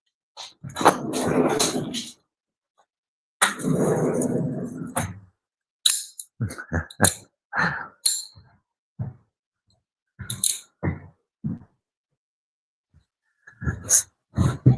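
Dogs being let out into the house make snuffling, breathing and low growling grunts in bursts, with a long rough stretch at the start and another a moment later, followed by short scattered yips and grunts close by.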